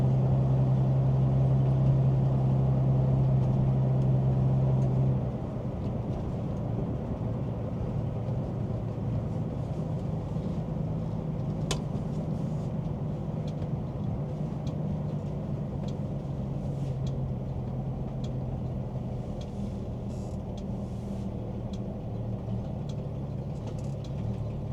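A blue 1966 Ford Mustang Coupe drives on winter roads, its engine a steady low drone mixed with road and cabin noise throughout, with a brief hum early on and no talking.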